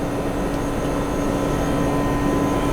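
A turnkey rotary evaporator with its flask holding ethanol spinning at 120 RPM gives a steady, fairly loud motor hum and whir that runs unbroken throughout.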